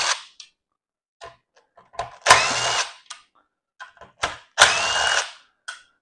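Power tool backing screws out of the inverter lid on a 2010 Toyota Prius Gen 3, two loud sustained whirring bursts separated by quieter clicks and small handling knocks.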